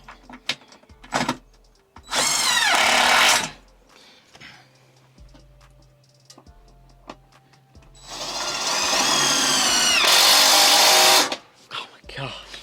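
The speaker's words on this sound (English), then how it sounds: "Start drilling." Two loud bursts of power drilling on a boat during a lithium battery install, one short and one longer, with people talking in between and a steady low hum underneath.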